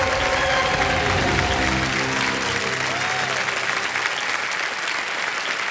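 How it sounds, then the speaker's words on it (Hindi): Loud, dense studio audience applause on a TV quiz show, a sustained wash of clapping with a faint musical tone underneath that stays strong throughout. "जोरदार तालियां बज जाए इनके लिए।"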